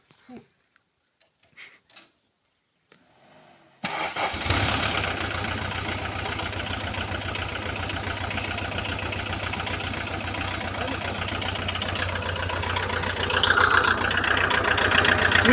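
A cold engine on a clay-hauling vehicle starts after a quiet pause and settles into a loud, steady idle with a ticking rhythm, rising slightly toward the end; voices are heard briefly before it starts.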